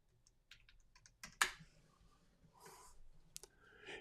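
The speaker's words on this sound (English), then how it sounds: "You guys get to see how bad I type." Computer keyboard typing during a live stream, bursts of quiet key clicks with one sharper clack near the middle and scattered taps toward the end, close and fairly faint, with no talking.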